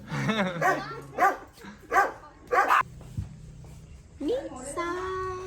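A dog barks and yips in a quick series of sharp bursts, then whines, with people talking nearby.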